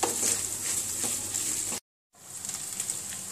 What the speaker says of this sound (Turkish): Salçamızın kokusu çıkana kadar salçamızı kavuruyorum.